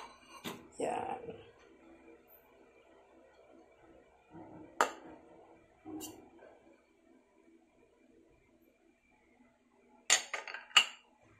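Beef burger mixture mixed by hand in a metal bowl, giving a few soft squelches and scattered clinks of utensils against the bowl, fairly quiet with pauses between bursts.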